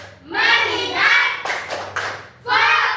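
Schoolchildren do the tepuk fokus routine: a loud group chant, then a crisp pattern of rhythmic hand claps in unison, then another chanted phrase.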